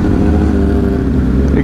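Loud, steady engine drone of a Kawasaki ZX10R 2021 sport motorcycle exhaust riding on a road at night, a continuous close rumble with no talk over it.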